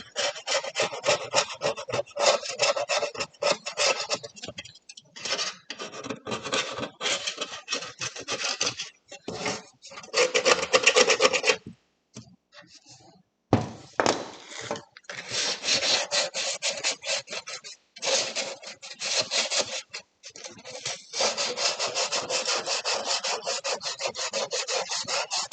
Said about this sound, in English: Scraping this bit out.